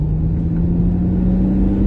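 An Audi S5 engine runs with a steady low rumble and a strong droning hum, held continuously at close range with no clear rise in revs and no voices.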